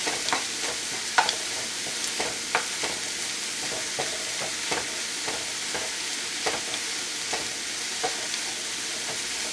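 Sofrito stirred in a hot frying pan, a steady bright sizzle with a regular rhythm of spatula scrapes and taps, close up and with no voices.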